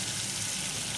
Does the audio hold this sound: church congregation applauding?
no